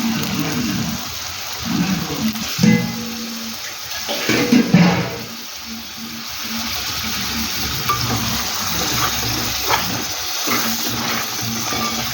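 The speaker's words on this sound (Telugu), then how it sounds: "ఇప్పుడు ములకాయ ముక్కలు వేసి నీళ్ళు పోతారండి." Water splashes and rushes steadily into a pot of mutton curry with drumstick pieces for several seconds, a broad hissing pour with a few louder surges, no talking.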